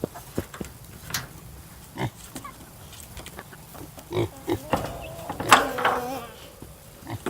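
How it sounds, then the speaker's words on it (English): Scattered grunts and snorts from pigs close by, irregular and fairly faint, with buzzing flies and a brief louder squeal near the end. "Malcolm, are you ready to feed the pigs?"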